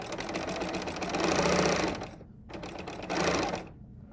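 A Bernina L 890 machine sews shoelace material in two fast, dense bursts of stitching with a brief pause between them and a stop at the end, loud and close, with no speech.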